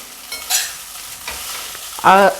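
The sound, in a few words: poha being stirred and fried in a pan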